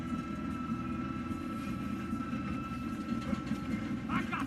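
A train rolls along the tracks in Red Dead Redemption 2, a steady low rumble with faint clatter running throughout, close and continuous with speech over it.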